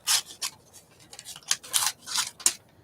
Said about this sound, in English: I'll fussy cut around the couch